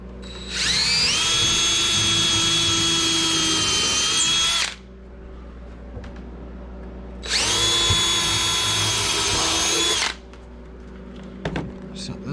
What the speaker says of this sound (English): the reason I'm pre-drilling is, you know, if this was pine, probably wouldn't have to